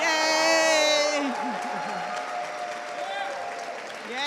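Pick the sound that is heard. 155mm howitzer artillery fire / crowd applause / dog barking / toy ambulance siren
crowd applause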